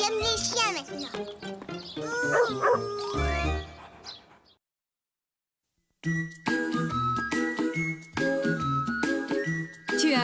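A cartoon puppy yips and barks in a French-dubbed children's show, with jingling tinkles and a voice mixed in, then a brief silent gap before the playful barking and music return.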